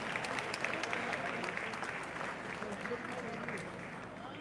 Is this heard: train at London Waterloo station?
no